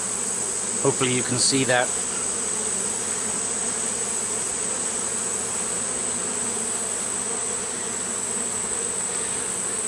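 Honey bees hum in a steady, dense drone throughout an open hive inspection, close and constant, while someone speaks briefly near the start.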